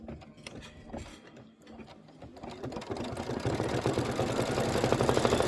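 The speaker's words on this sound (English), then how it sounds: "And here is our decorative stitch." A sewing machine stitching a decorative stitch on a quilt block, its motor and needle rising into a loud, fast mechanical whir with rapid rhythmic clatter that builds steadily and continues alone.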